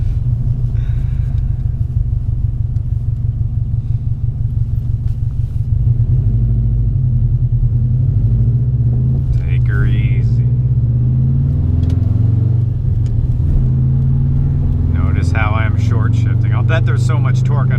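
A car engine rumbles steadily and builds as the driver merges onto a highway, a sporty turbo car with a 7,000 RPM redline, with someone talking over the drone throughout.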